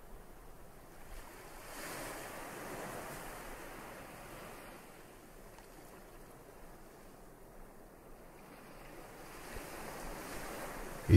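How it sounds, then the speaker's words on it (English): Ocean surf washes in steady, rolling swells, a continuous broadband hiss that rises and falls gently, with a soft gust of wind at the end. "The sound of the waves envelop you"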